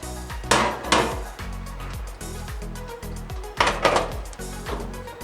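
A cake tin of chocolate cake batter tapped on a kitchen counter before baking: two bursts of sharp knocks, each a quick cluster of hard taps, close and clear over quiet kitchen background.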